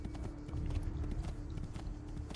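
A horse gallops in Assassin's Creed 2, its quick, steady hoofbeats faint and continuous beneath a low ambient hum.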